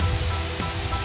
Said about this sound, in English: you might actually be able to hear the hiss of all the steam coming out of the vents